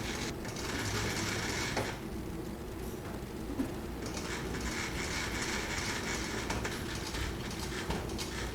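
An industrial sewing machine driven by a digital servo motor runs steadily at close range, a continuous mechanical whir and rapid stitching chatter that briefly eases around the two-second mark before carrying on.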